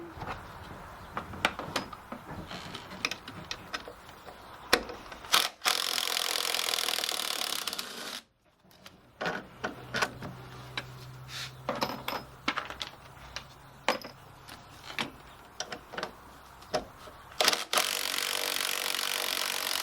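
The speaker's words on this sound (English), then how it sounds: "now I'm just going to take these top 3 bolts out." Upper engine mount bolts being loosened and removed with hand and power tools on a MINI Cooper S F56, giving repeated close metallic clicks, ratcheting and short bursts of whirring with a brief pause partway through.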